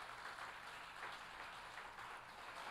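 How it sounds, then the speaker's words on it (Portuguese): A church congregation applauds together in a steady, dense patter of clapping that holds evenly for a few seconds, fairly soft and diffuse as heard across the hall. "você pode dar uma salva de palmas ao corpo de obreiros aqui dessa igreja?"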